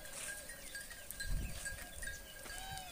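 A herd of goats gives faint, thin bleats at a distance, a few scattered calls over a quiet outdoor background.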